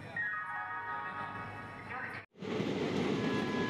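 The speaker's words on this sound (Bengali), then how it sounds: "আজ আমাদের ট্রেনটি ছাড়ছে 20 নম্বর প্ল্যাটফর্ম থেকে" A passenger train leaving platform 20 on a Purulia trip gives off a steady rumbling roar with a thin tonal whine, cut by a brief break before the rolling noise carries on.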